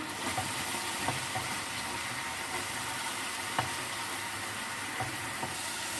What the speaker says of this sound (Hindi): अभी हम सभी मसालों को मिक्स कर लेते हैं।